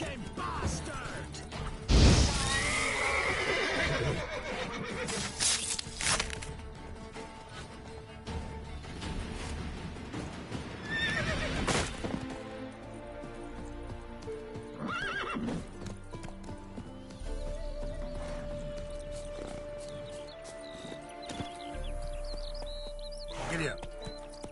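A horse in The Witcher III whinnies loudly near the start, then its hooves clip-clop in a steady trot under background game music and effects, with a second whinny or crash midway.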